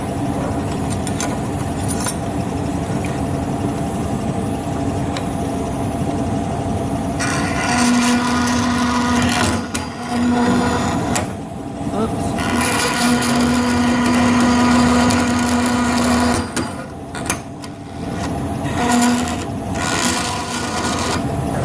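A hand saw nips the end off a metal drill point gage, producing a close, steady rasping stroke that pauses briefly and resumes, with a faint high whine in the background and no talking.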